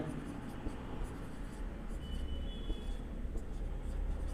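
A pen or pencil scratches softly across paper while writing out a math answer by hand, a faint continuous rustle under quiet room noise.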